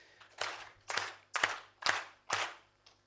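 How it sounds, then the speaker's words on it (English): Audience at a university event giving five distinct, evenly spaced rounds of clapping in unison, each a sharp burst that fades quickly, in a quiet hall. "We give her 5 claps and the management."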